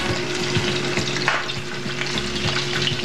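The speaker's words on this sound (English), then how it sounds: "We start cooking the sausage, then we cook the lamb," Sausage, lamb and meatballs fry in a pot for a homemade sauce, with a steady close sizzle and occasional stirring scrapes, and no voices.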